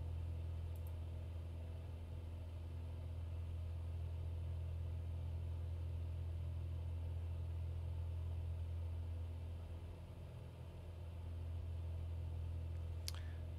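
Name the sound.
Piper Cherokee engine in Prepar3D flight simulator video game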